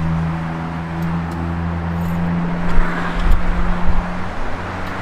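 A 1964 Ford F100 truck engine idles close by in a low, steady hum, rising briefly in a few uneven bursts toward the end of the short stretch, with no talking.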